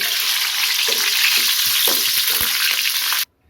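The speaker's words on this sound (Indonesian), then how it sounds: "Ini minyaknya sudah panas. Kita goreng tomat, bawang putih, cabai merah besar dan cabai merah kecil." Tomato, garlic and large and small red chilies frying in hot oil, a dense steady sizzle with soft stirring knocks, close and loud, alone without talk until it cuts off abruptly near the end.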